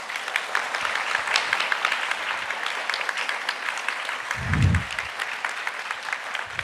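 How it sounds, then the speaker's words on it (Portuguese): A church congregation at a Sunday service claps steadily in sustained applause, with a low thump partway through. "Dá uma salva de palmas bem forte"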